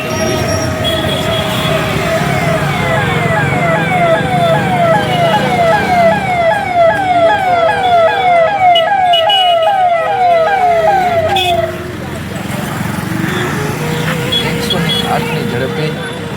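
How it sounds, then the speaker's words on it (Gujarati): A cow-shelter ambulance in Deesa, arriving for a sick cow, sounds its siren in a loud, rapid, repeating wail for about twelve seconds before it cuts off, leaving street rumble and voices talking. "તાત્કાલિક એમ્બ્યુલન્સ આવી"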